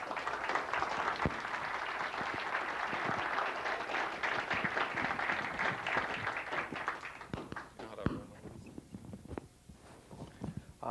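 Audience applause welcoming Stephen LaBerge, a lucid dreaming expert, to the stage at a talk: dense, sustained clapping from a large crowd for about eight seconds, then thinning out into scattered claps near the end.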